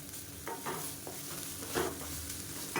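Cauliflower cooking in a pan is stirred, with a few soft scraping and clattering strokes over a low, quiet sizzle in a short burst.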